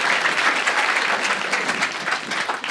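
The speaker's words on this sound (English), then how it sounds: "Give them a big round of applause for your support" Live audience applause during a sports podcast taping, dense sustained clapping from a crowd, loud and even throughout.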